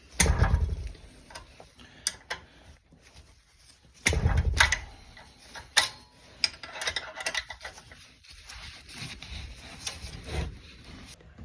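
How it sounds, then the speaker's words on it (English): A wrench backs out the 8 mm valve cover bolts on a Predator 212 Hemi small engine, making quiet, close, irregular clicks, ratchet ticks and rubbing scrapes with a few louder knocks and pauses between them. "you're going to start by removing these 4 bolts right here, and there's 2 below also with a 8 mil"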